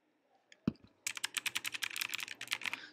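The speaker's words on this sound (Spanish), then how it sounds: "Suena delicioso el teclado" A single thump, then rapid bursts of crisp, clacky keystrokes on a computer keyboard in a quick, uneven rhythm, close and fairly loud in an otherwise quiet room.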